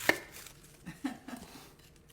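Knife chopping an onion on a cutting board in a home kitchen, a sharp first cut followed by a few softer, irregular chops, close and fairly quiet.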